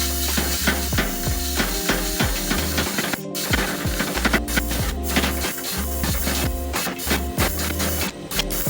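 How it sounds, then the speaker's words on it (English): Power hammer drawing out a forged steel table leg for a pecan tree table base, pounding in a rapid, steady rhythm of loud, close metallic blows with ringing overtones that continue almost without pause. "Here's another leg being drawn out on the power hammer."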